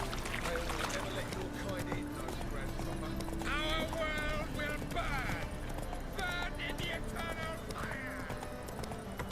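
Horse hooves clip-clop in The Witcher 3 inside Novigrad's castle walls, a steady rhythmic clatter running under game music and ambient noise, with someone talking over parts of it.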